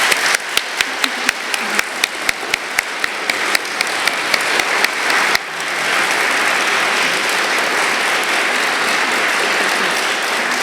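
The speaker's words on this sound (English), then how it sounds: "I would still love to give them a round of applause" An audience at a public civic event claps, starting with a few scattered, evenly spaced claps that swell into dense, steady applause lasting several seconds.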